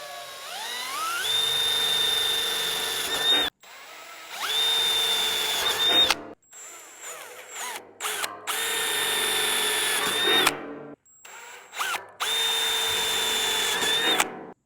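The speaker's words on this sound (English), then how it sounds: "We're gonna go ahead and drill all of my other holes" A power drill bores holes in a steel drum for a smoker build, loud whining bursts of a few seconds each repeated about five times with short pauses between.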